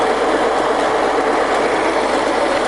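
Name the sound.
Kearns OB horizontal borer machine running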